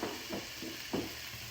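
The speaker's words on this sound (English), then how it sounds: "we're just going to saute up our onion" Onion sautés in butter in a pan, with a quiet steady sizzle and a few soft, rhythmic scrapes of a sauté spoon stirring it.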